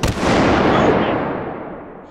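A burst of explosions in the VR shooter game H3VR booms out loud and close, one heavy blast whose rumble and debris-like crackle fade away over about two seconds.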